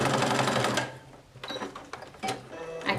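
A sewing machine runs a decorative stitch on a boxy toiletry bag in short bursts of rapid mechanical clatter with brief pauses between, close and moderately loud.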